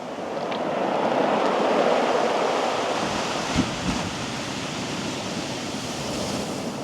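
Surf washing onto the Pembrokeshire coast at Newgate, a continuous broad rush of breaking sea waves mixed with wind noise, swelling slightly early on and staying steady, with no voices.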